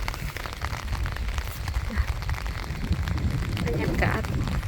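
Light rain that has fallen all night into the morning keeps up a steady, soft patter on surfaces, with a voice talking over it now and then.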